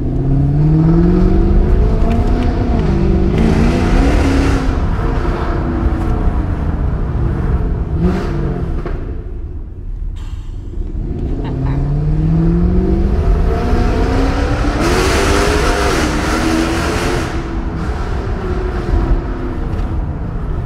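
A Mercedes-AMG sports car engine revs hard and climbs through the gears, dips briefly, then roars and accelerates again, loud and close.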